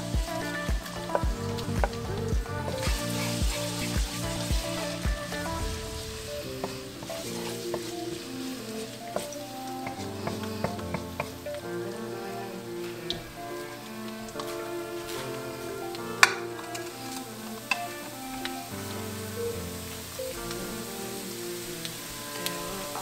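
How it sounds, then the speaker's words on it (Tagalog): Garlic sizzles steadily in hot cooking oil for kiam-pung rice, a soft continuous crackle that runs under louder music throughout. "lalagyan na natin ng mantika. Lalagyan na natin yung garlic."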